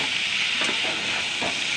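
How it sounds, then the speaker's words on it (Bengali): Soybean chunks and potato frying in a hot pan with cumin and coriander, a steady bright sizzle and hiss throughout with a couple of soft stirring scrapes, close and continuous. "তারপর সয়াবিন আলুটাকে আর একটু ভালো মতো করে ভেজে নেব"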